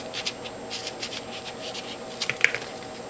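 Knife cutting the top off a cracked citrus fruit: soft close scraping and rubbing strokes, several light scratchy cuts followed by a couple of sharper snicks near the end.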